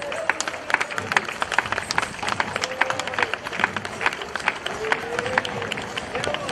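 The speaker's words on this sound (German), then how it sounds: "Einen großen Applaus für Pater Willibald." Crowd applause at a historical festival parade, the Drachenstich procession in Furth im Wald, with scattered clapping and cheering from spectators over steady outdoor crowd noise and babble.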